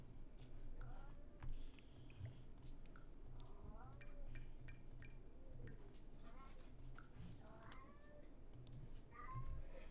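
A house cat gives several short, rising meows at close range, spread over ten seconds above a low background hum, with soft talking and faint kitchen clatter.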